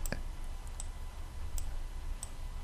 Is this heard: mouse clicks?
yes